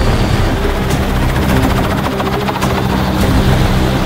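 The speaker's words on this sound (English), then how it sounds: "I'm about to get in a helicopter." A helicopter in Italy runs nearby with a loud, continuous rotor thrum and fast blade chop under a steady engine whine, heard alone without talk.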